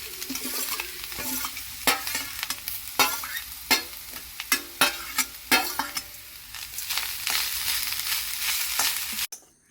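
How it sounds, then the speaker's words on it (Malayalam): Grated coconut fries in coconut oil in a pan with a steady sizzle. A spatula scrapes and stirs it in a run of sharp, close strokes, then the sound cuts off abruptly at the end. "തേങ്ങ വറക്കാൻ വെക്കാം വെളിച്ചെണ്ണ ഞാൻ കുറച്ച് ഒഴിച്ചു"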